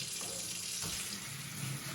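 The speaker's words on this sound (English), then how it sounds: "I'm gonna rinse them pretty aggressively" Tap water runs hard over a heaping colander of fresh strawberries, a steady, close splashing rush that holds evenly for the whole moment with no talking.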